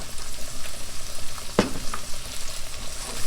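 Thick-cut bacon lardons fry in a pan with a steady, close crackling sizzle, broken once by a sharp clack of a utensil near the middle.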